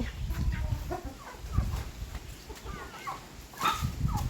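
Chickens cluck and murmur close by while being fed rice, with short scattered calls over a dusty outdoor background.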